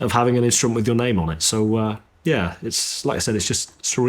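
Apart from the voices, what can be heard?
No everyday noise stands out behind the speech.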